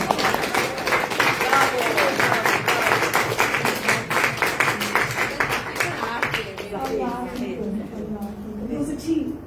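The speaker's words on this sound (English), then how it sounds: "applause for the database" A conference audience claps for a database presentation on women and gender research, a dense burst of clapping that fades after about six seconds as a voice begins speaking over the room.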